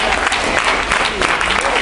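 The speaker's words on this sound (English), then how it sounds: "Give him a round of applause." A crowd at a religious service in Fort Lauderdale, Florida applauds steadily, dense clapping filling the whole stretch at a loud, even level.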